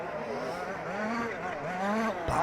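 Large-scale 4WD off-road RC cars race in a continuous, buzzing whine of small engines with rising and falling pitch, loud and steady, under faint talk.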